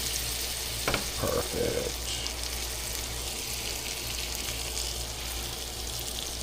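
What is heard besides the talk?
seasoned black drum fillets sizzling in a frying pan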